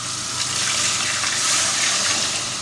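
Water gushes steadily into a pot of fried chickpeas while chana pulao is being made, a close continuous pour with a faint sizzle beneath it.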